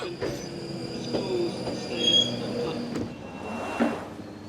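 A London Underground train near Finchley Central rumbles along with squealing wheels, a high metallic screech rising over the steady low rumble of the carriages.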